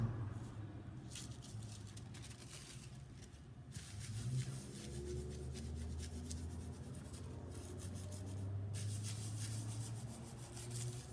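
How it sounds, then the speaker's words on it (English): Fingers rub copper leaf down onto fabric, making a soft, continuous close-up scratchy rubbing with brief pauses, quiet and steady throughout. "just kind of systematically burnish it with your fingers to make sure it's really making contact"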